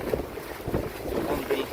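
Wind buffets and waves slosh around a small Argie 15 sailing dinghy on open water off the Finnish coast, a steady, rough wash with gusty rumbles close to the boat.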